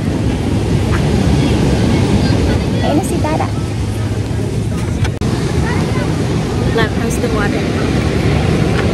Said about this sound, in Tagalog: the waves are crashing like right on the shore